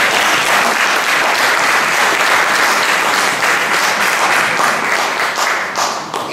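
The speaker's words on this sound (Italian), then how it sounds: "il maestro Giancarlo Governi, per cui chiedo subito un applauso." An audience at an evening talk about Totò bursts into loud, sustained applause, dense clapping filling the room steadily for several seconds before beginning to fade at the end.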